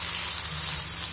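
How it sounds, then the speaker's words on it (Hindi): Tomatoes fry with fenugreek leaves in a pan, a steady close sizzle and crackle with an even, continuous hiss throughout. "मेथी पत्ता भून गया है, टमाटर डाल लेंगे इसमें, टमाटर को भी भून लेंगे थोड़ा सा सॉफ्ट होने तक"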